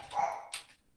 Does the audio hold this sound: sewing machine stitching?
no